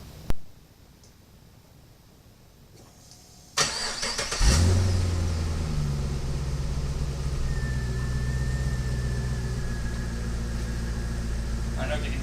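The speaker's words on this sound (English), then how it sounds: "let's remote start it and see what it sounds like stock" A stock-exhaust Pontiac G8 GT V8 is remote started inside a garage, cranking briefly before settling into a steady, quiet, echoing idle that hums on to the end.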